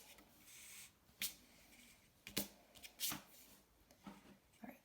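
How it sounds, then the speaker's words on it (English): An eraser lightly rubs pencil guidelines off watercolor paper, giving a few short, soft scratchy brushes spaced out over a quiet background. "with my eraser, I'm just going to very lightly erase"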